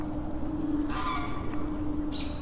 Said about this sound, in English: So all kinds of birds.